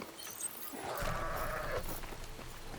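A sheep in Horizon Forbidden West gives a single drawn-out bleat near the middle, heard over low game ambience.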